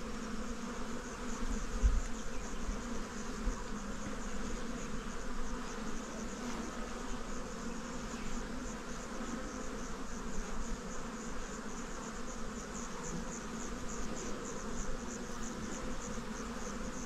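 Honey bees drone steadily while being moved from a small hive into a larger one, a dense close buzz with one faint thump near the start and no speech.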